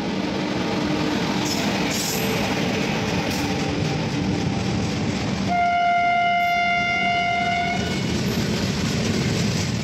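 The Mao Express (Bandra Terminus to Madgaon) halts at Veer station, a steady rumble of the standing train and station noise, with a long, loud horn blast sounding about midway.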